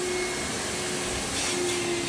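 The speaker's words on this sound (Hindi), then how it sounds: "थोड़ी आवाज़ आ रही है, वहाँ पे क्लीनिंग हो रही है" A steady, loud whirring hum like a vacuum cleaner runs continuously throughout during cleaning in a restaurant, with a faint tonal whine and no talking.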